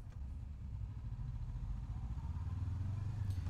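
A motorcycle engine runs in the background with a quiet, steady low rumble that thickens slightly toward the end, faint and without talk.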